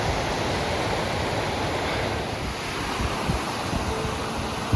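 A mountain stream rushes down through snowpack on a hike toward Sunshine and Red Cloud summits, a steady, loud broadband water roar with some wind noise, continuous without pauses and no talking.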